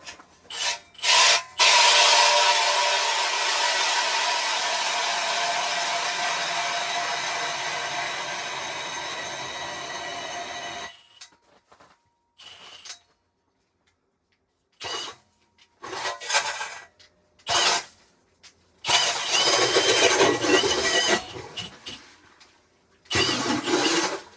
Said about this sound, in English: Put it on the #1 setting, highest torque, and we'll see how well this thing drills.